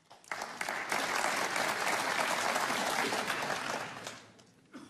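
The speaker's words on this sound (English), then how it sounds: "he gets a clap" Snooker crowd at a Scottish Open final gives a round of clapping after a shot, rising quickly, holding steady for a few seconds, then fading out.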